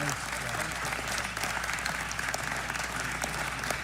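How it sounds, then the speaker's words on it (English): Audience clapping at a congressional hearing session, a dense, steady round of applause heard faintly and at a distance, with no speech over it. "They're actually clapping this time, too."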